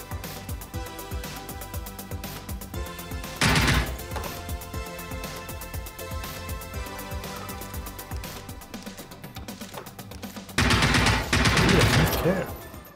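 Sustained automatic gunfire in the video game Generation Zero, loud and dense, with two heavier bursts over a constant backdrop of game music.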